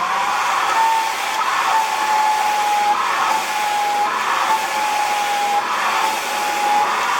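A hair dryer blows a steady, loud stream of hot air at a lace front wig, holding one continuous whooshing tone with small surges in airflow and no talking.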